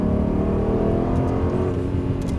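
A car engine roars steadily at high revs, loud and close, with a dense rumbling drone throughout and no voices.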